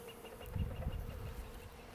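Honey bees buzzing during a spring hive inspection, a dense droning hum close by with a brief swell, no voices.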